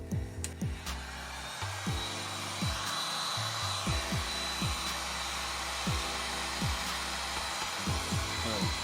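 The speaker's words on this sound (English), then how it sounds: "Okay, so I've got this heat gun." Heat gun blowing hot air over spliced wiring on a 2019 Toyota RAV4, a steady whooshing hiss with a low motor hum, close and moderate in level, with scattered faint clicks and knocks.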